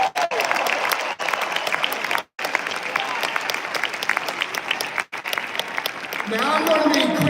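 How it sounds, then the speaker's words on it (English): Audience applause at a presidential inauguration event, sustained and loud across the whole stretch with a few brief drops, then swelling again near the end with cheers mixed in. "So I'm asking you to give yourself a round of applause right now."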